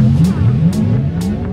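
A car engine roars steadily at high revs during a launch control start, its pitch rising and dipping in repeated surges, close and loud with brief hissy bursts.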